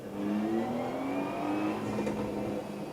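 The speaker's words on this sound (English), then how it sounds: "Listen to that frickin' overrun." A car in the Assetto Corsa Evo racing game revs and then lifts off, its engine note sweeping up before the exhaust gives crackling overrun pops; close, fairly loud, with no talk.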